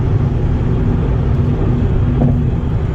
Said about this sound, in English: You can hear crap hitting the window.